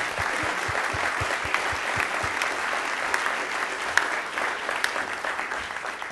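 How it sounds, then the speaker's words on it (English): An audience at a political institute event on the news business bursts into sustained, even applause, dense clapping at moderate level with a few sharper individual claps standing out. "If you would please join me in a round of applause."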